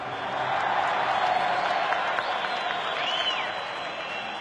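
A rally crowd applauds in a continuous wash of clapping with scattered cheers, mid-distance and fairly loud, with faint voices mixed in.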